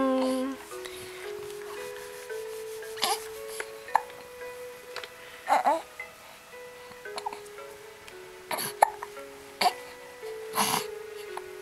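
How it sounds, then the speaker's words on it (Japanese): A child hiccups repeatedly, short sharp catches spaced irregularly a second or two apart, over a soft sustained melody, with a voice speaking intermittently. "1日だいたい5回ぐらいしゃっくりをします。"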